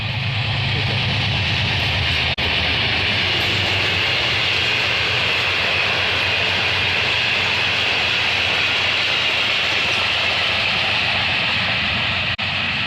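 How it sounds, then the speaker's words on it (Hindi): A train rolls past in a continuous, loud rumble and roar that holds steady for about thirteen seconds, a dense wash of rail noise close by with no breaks. "ये देखें ट्रेन।"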